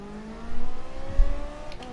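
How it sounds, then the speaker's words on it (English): McLaren race cars launch with a rocket start at Monza in Gran Turismo Sport, engines rising in pitch as they accelerate off the line, a steady building roar with no talk. "See what I said about them McLarens getting a rocket start?"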